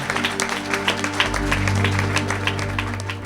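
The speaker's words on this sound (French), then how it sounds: "Put your hands together for the Lord." A church congregation claps and cheers for the Lord, a steady wash of applause over a low sustained hum of music.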